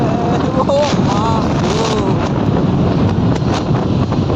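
Cold wind in the hills of Tenga valley buffets the microphone in a loud, constant roar, with a voice speaking briefly over it.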